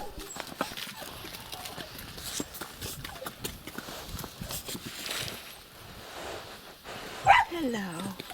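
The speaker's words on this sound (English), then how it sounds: "we had company that evening, and again the next morning, by a herd of horses" A herd of horses moves close by on an island in the Outer Hebrides, giving soft scattered hoof clops and shuffles, with a brief vocal sound near the end and quiet talk in the background.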